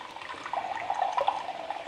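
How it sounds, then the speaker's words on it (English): Purified water pours into a blender in a home kitchen while soup is being made, a steady close trickle and splash running throughout with no voices over it. "I'm just going to get myself some purified water here"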